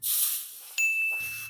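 A deodorant aerosol can sprays a steady, loud hiss upward to hold a ping-pong ball aloft in the jet. The spray stops briefly, then resumes, and a thin whistling tone runs through the second burst.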